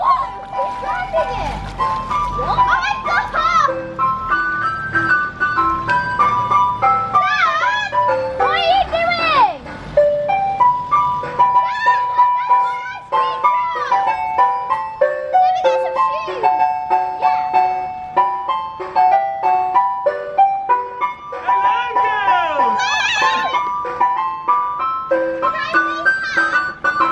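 An ice cream truck plays its looping jingle loudly and continuously, with a voice speaking at points over the tinkling melody.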